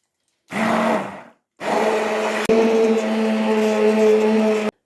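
A blender purees cooked zucchini with carrot and tomato, whirring loudly in two bursts, a short run, a pause, then a longer steady grinding that stops abruptly.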